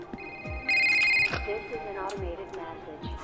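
A telephone rings in the Roblox video game, a bright electronic ring heard close for about half a second amid low thumps and clicks.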